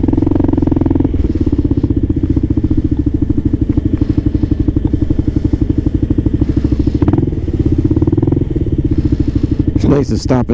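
A Kawasaki KLR650 single-cylinder motorcycle engine runs steadily at night in Brooklyn, a loud, close, even thrum with a fast regular pulse that holds throughout, with a brief clattering burst near the end.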